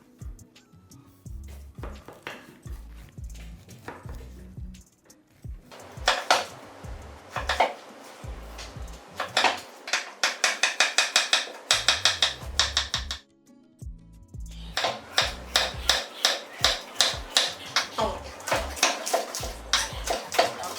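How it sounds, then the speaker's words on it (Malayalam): A knife cuts pineapple on a board, rapid runs of sharp chopping taps in bursts separated by short pauses and clattering handling sounds, close and clear with no talk. "ആദ്യം നമുക്ക് പൈനാപ്പിൾ കട്ട് ചെയ്യാം."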